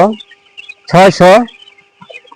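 Chickens on a poultry farm housing 11-day-old birds, with two loud, close clucking calls in quick succession and a brief softer cluck near the end, over a faint steady background hum.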